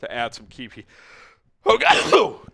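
A single sudden sneeze bursts out loud and close after a stretch of speech and a brief quiet pause, ringing broadly for about a second.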